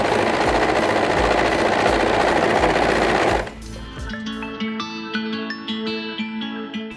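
A sewing machine chain-stitching dungaree pieces runs in a fast, loud, steady mechanical rattle for several seconds, then stops, leaving quieter clicks and handling sounds of the machine.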